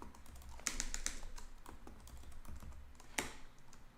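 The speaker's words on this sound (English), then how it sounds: "I'm just typing in these in randomly." Rapid tapping on a computer keyboard while entering hexadecimal color values into Python plotting code, close irregular clicks with a few sharper, louder keystrokes and no talking.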